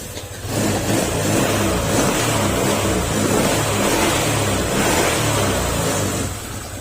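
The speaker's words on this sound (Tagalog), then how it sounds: "Kapag ka ganun yung tunog, ng motor ninyo" A motorcycle engine idles and revs steadily up close, a continuous rumbling drone with a slight rise and fall in pitch.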